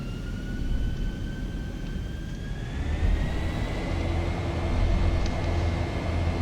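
Airliner takeoff roll in the X-Plane 11 flight simulator, with a steady loud engine roar and a rising whine that climbs gradually throughout, no talking.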